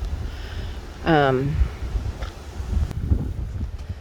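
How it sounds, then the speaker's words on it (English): Wind rushes and buffets against the microphone throughout on a farm, with a brief tonal squeal partway through. "it's just a little windy now"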